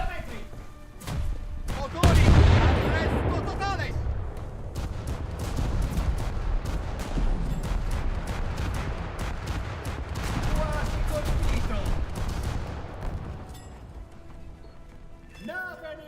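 Rapid gunfire from a naval video game rattles on and off while shooting at a recon aircraft, with bursts and thuds over a sustained rumble and someone talking over it.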